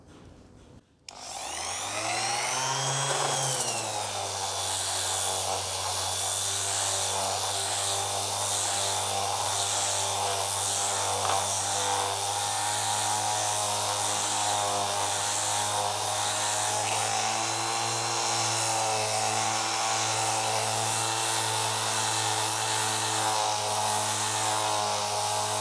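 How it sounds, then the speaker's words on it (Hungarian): A power sander fitted with fine used 180-grit paper spins up and runs steadily on a wood surface repaired with knot filler, a loud continuous whirring hum that holds without pause. "a javítást követő 10 másodperccel nekiállhatunk csiszolni"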